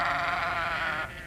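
Sheep bleating in a single sustained, wavering call, close and fairly loud, with the note fading near the end.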